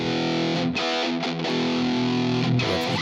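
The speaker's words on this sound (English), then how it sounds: "just to give you some examples of some of the guitar tones possible here" Distorted electric guitar tone from Fender Studio software plays sustained chords with a few quick changes, thick and loud throughout, with no voices.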